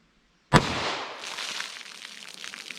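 A single 10mm Auto pistol shot firing a Corbon DPX round, a sharp loud crack with a long rolling echo trailing off over about two seconds, heard alone outdoors.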